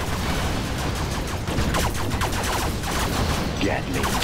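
Rapid gunfire bursts from a Gatling cannon in the real-time strategy game Command & Conquer Generals Zero Hour, continuous and loud amid dense battle noise with overlapping explosions.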